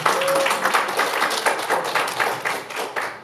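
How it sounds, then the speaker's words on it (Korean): An audience claps warmly and continuously for a few seconds, close and loud, at a talk about gut, traditional Korean shamanic ritual performance. "박수 한번 주세요"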